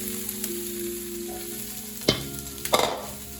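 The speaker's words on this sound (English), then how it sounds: "I'll get those sauteing now for about 5 minutes or until crisp tender" Prepped stir-fry vegetables sauté in oil in a pan with a continuous close sizzle, broken by two sharp stirring clatters about two seconds in and near the end, with no talking.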